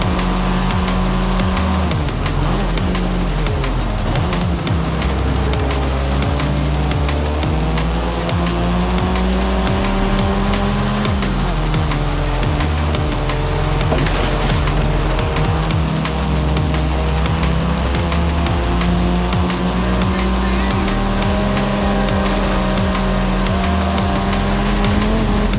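Race cars in Forza Horizon 5 roar close and loud throughout, their engines droning continuously and rising and falling in pitch through gear changes, with no break in the noise.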